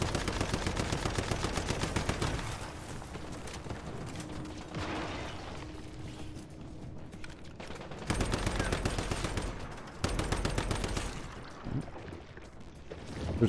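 Gunfire crackles in a video game, with rapid bursts of shots in dense rhythmic runs that stop and start, heard near and fairly loud alongside game effects and a little faint talk.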